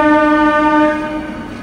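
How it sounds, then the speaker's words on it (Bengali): A new EMU local train pulls into platform 6 on the Katwa–Burdwan line, its horn sounding a loud, steady multi-tone blast close by that fades slightly toward the end. "দেখতেই পাচ্ছ ট্রেন ঢুকছে প্ল্যাটফর্ম নাম্বার 6 নম্বর প্ল্যাটফর্মে"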